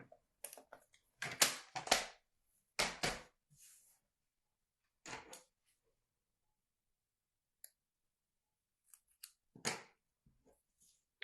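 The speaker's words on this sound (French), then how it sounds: "je vais couper au ciseau" Scissors snipping through cardstock during a papercraft box project, a few short crisp cutting bursts close up, clustered early and then spaced apart with quiet gaps between.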